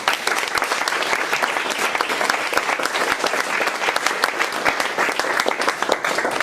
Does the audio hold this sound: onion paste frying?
no